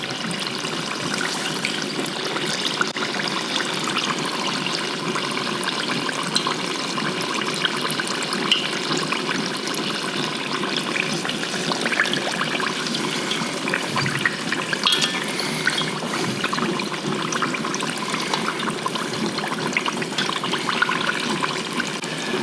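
Cannoli shells frying in hot oil, a dense, steady sizzling hiss with fine crackling that holds evenly and close for the whole stretch, with no voices.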